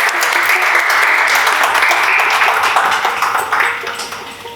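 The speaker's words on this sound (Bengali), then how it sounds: "জোরে হাততালি।" A studio audience gives loud, sustained applause for a guest singer, dense clapping that holds steady and then tapers off toward the end.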